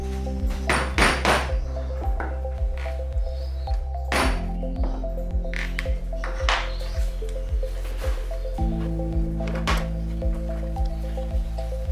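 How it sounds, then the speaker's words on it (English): A leather punch is struck through leather for the rivet holes of a barrel satchel bag, giving a regular series of sharp, close knocks over a low steady hum. "So this is where you want to punch a hole through for the rivets."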